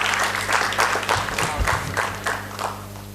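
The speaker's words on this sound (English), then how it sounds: "let's give a huge round of applause to Jitendra Chouksey" Audience at a DevConf.IN 2025 technology conference applauding as a speaker is welcomed to the stage, a dense sustained round of clapping with some voices mixed in, fairly loud throughout.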